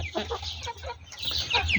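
Hill breed desi chickens cluck close by in short, irregular calls over a low farmyard hum.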